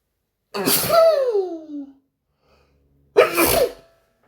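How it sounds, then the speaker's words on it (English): Two loud, close sneezes separated by a short silence, the first drawn out with a rising inhale, the second sharp and quick. "I'm going to sneeze."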